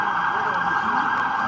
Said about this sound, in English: Let me let this ambulance pass